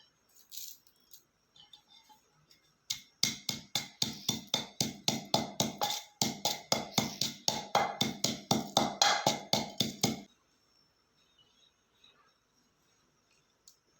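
Melon seeds and magaz seeds being pounded for almond sardai, a rapid run of sharp, fairly loud rhythmic thuds lasting about seven seconds, then quiet.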